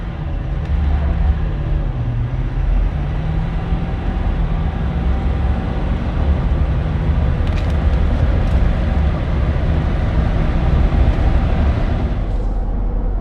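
Inside a Ford F250 Tremor diesel pickup accelerating hard from 0 to 60, a loud, continuous engine and road drone rumbles low and steady, with a few faint rattles and a slight shift in pitch. No one speaks.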